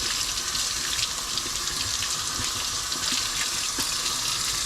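Hot tap water runs steadily over a plastic bottle lid in a bar sink, rinsing away sticky coconut cream sugar; a continuous close splashing hiss with no talk.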